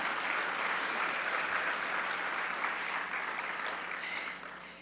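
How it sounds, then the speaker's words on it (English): Sustained audience applause fills a large hall at a formal gala, a dense steady wash of many hands clapping that holds evenly before gradually thinning and fading toward the end. "let's give another round of applause for Flory Bagel."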